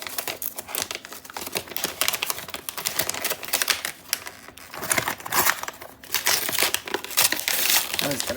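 A Christmas gift package opened by hand: close, busy crinkling and tearing of paper wrapping with rustles and crumples in irregular bursts, while a person talks intermittently.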